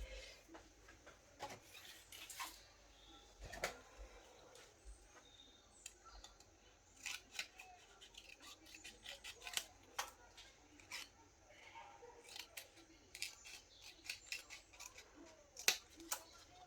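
Scissors snip paper for a scrapbook pop-up page, producing sharp, repeated close cutting clicks in irregular bursts over a quiet room background, with no talking.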